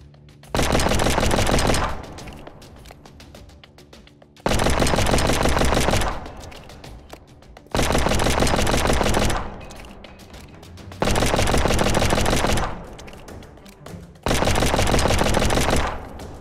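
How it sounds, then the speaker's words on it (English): Five long bursts of rapid automatic gunfire from cover in the mobile shooter Project War Mobile, loud and close, each lasting about two seconds with short quiet gaps between. "use shoot button to shoot behind cover"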